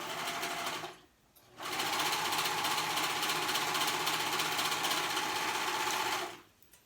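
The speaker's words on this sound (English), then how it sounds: "Then I'm going to grab it and turn it right sides together and sew that raw edge." A sewing machine stitches the long raw edge of kid's color-blocked joggers, running steadily for about a second, pausing briefly, then buzzing continuously for nearly five seconds before stopping.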